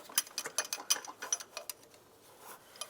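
A 13mm wrench loosening a stud on a 1999-2005 Volkswagen Jetta engine during timing belt work, a quick run of faint, close ratcheting clicks that slows and tapers off.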